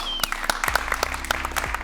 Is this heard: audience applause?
yes